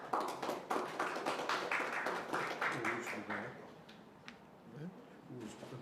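Applause at a Brazilian Senate public hearing on glycogen storage disease, a dense patter of clapping hands filling the room for a few seconds, then thinning into scattered claps and murmured voices.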